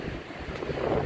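Stormy waves crash and wash over the Semaphore jetty in South Australia, a steady roar of surf under heavy gusting wind buffeting the microphone, loud and continuous with no voices.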